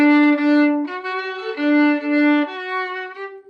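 A violin plays sustained notes with uneven bowing pressure, the tone swelling and dipping and the bow changes sounding rough.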